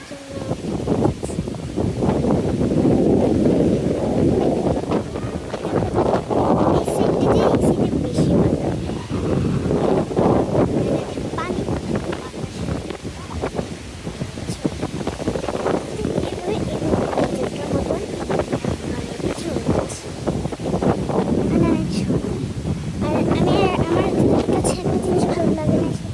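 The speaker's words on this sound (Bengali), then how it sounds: "এখানে গাছপালা দিয়ে বাতাস, আর এখানে অনেক বাতাস ছুটে" Strong wind gusts through trees beside an outdoor swimming pool, roaring and buffeting the microphone in waves for the whole stretch, while someone talks over it throughout.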